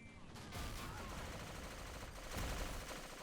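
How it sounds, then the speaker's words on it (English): A World War I vehicle's front machine gun rattles in Men of War: Assault Squad 2, a dense continuous burst of gunfire under battle noise, steady throughout and swelling slightly near the end. "The side machine gun isn't even working. It's just a front machine gun."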